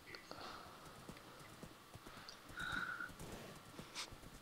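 Galloping horse hooves in a multiplayer Minecraft-style survival game, with a quick, steady clip-clop rhythm and a brief neigh partway through, all quiet and close, while voices chat faintly underneath.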